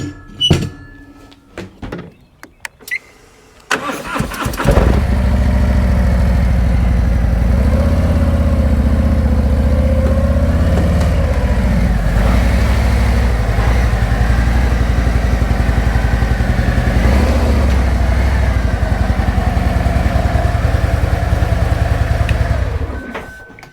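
A motorcycle engine fires up after a few clattering knocks, then idles loudly and steadily for about twenty seconds as it rolls into a Condor wheel chock, before cutting off abruptly.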